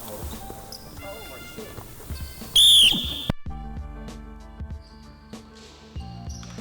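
A coach's sharp, shrill whistle blast cuts through a basketball drill in a gym, over bouncing balls, squeaking footsteps and voices in the background.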